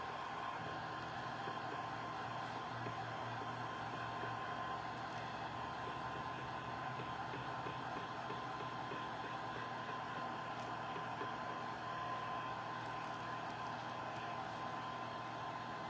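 A hair dryer blowing to dry paint on a spooky craft project, a faint steady whir held evenly throughout with no talking.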